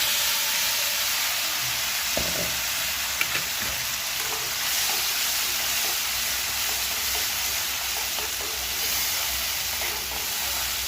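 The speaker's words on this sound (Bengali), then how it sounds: "এই টমেটোর পেস্টটা দিয়ে দেবো।" A tomato, dried chilli and peanut paste with ginger frying in a pan for a pointed gourd curry, a loud steady sizzle with a few soft stirring scrapes early on.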